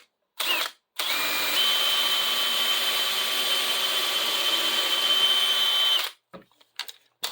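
A power drill with a bit just under 1/8 inch bores a pilot hole in a wooden Windsor chair, a brief burst followed by one steady high whine of about five seconds, close and loud, then a few faint clicks.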